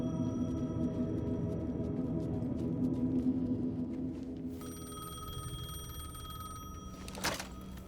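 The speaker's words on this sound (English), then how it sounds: "The payphone was ringing." A payphone rings in the Alan Wake II video game, a faint repeating electronic bell over a low droning ambient background, joined midway by a steady higher tone and a brief sharp clatter near the end.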